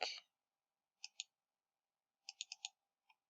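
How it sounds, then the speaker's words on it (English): Mouse clicks in Photoshop, a loud click at the start, then a pair near one second and a quick run of four around two and a half seconds, ending on one faint click, crisp and close with no voices. "I'm going to right click"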